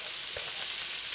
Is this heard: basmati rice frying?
yes